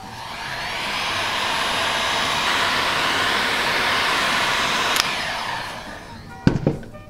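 A heat gun blows steadily while warming a sheet of transparent Worbla thermoplastic, a constant loud airy roar that runs unbroken for several seconds before a couple of sharp clicks and knocks near the end.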